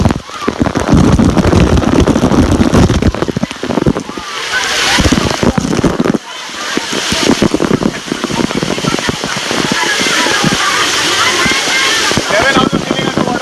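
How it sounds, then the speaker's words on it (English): Roaring broadband rush of water from inside a waterfall at Khopoli, Maharashtra, loud and steady close by, with splashing and people talking over it throughout. "This is inside the waterfall."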